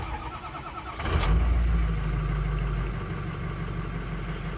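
A diesel truck engine with a crank-no-start fault catches and runs: a broadband rise near one second settles into a steady, fairly loud low rumble that holds for the rest of the stretch, with no talking.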